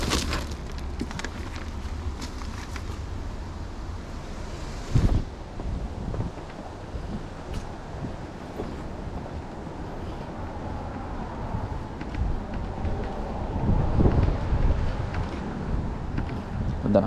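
Steady wind buffets the microphone for the whole stretch, rumbling and gusting louder near the end, with a voice speaking faintly underneath.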